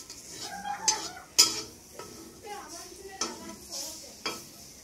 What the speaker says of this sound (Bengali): এখন এই ডিমটাকে ভাজতে হবে।